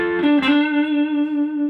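A distorted electric guitar plays a short blues lick: a quick picked flurry, then one note that rings out, sustained and fairly loud, with no voice.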